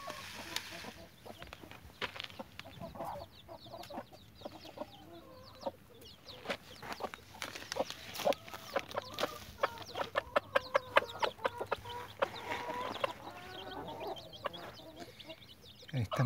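A hen clucks softly and steadily among five-day-old chicks, whose busy high cheeping peeps fill the scene in quick, scattered bursts at close range.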